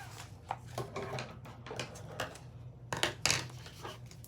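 Quiet snips of scissors cutting paper, a few irregular crisp cuts with rustling between them, close by and soft.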